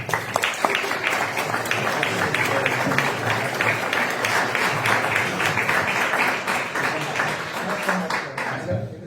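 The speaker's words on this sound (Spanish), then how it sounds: "un fuerte aplauso para Josep" Audience applause for a speaker at a conference, a dense, steady patter of many hands clapping throughout, fairly loud and fading out at the very end.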